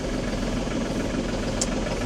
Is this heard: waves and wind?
no